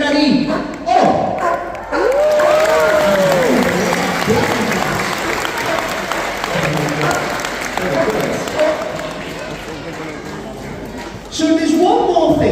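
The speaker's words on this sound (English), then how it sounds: "you guys are going to give him a big round of applause" Audience applause at a sea lion show, a broad wash of clapping and crowd noise that runs steadily for most of the stretch under a presenter's voice, easing slightly before swelling again near the end.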